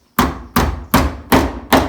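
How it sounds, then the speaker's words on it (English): A hammer strikes protruding nails in a log cabin floor, bending them over across the grain: five sharp, evenly spaced metallic blows close up, each ringing briefly before the next, with no talking. "take my hammer and bend all of these over"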